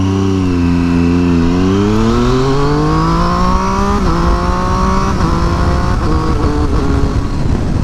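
A three-cylinder Triumph Daytona 675R motorcycle engine revs up loud and close, its pitch climbing steadily in a smooth rising whine, with a few brief shifts near the end.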